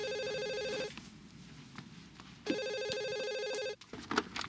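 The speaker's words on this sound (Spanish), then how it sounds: "voy a contestar el teléfono" A telephone rings in two long electronic bursts separated by a pause, loud and close in a domestic TV drama scene, with faint room noise and brief movement after the second ring.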